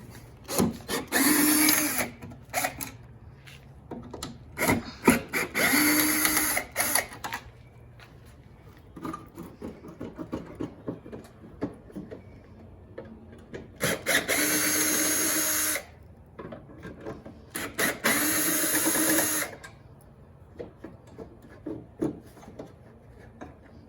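Ratchet wrench working bolts off a headlight on a wrecked C5 Corvette, with several bursts of rapid clicking ratcheting and quieter pauses between them, close and fairly loud.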